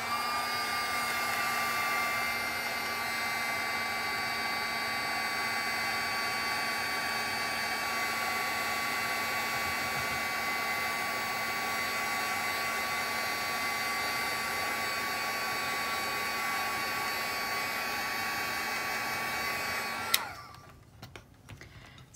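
A hair dryer blows steadily and loudly on wet watercolor paint on a seashell art piece, a constant whooshing drone with a faint whine that runs unbroken for about twenty seconds before clicking off abruptly into near silence.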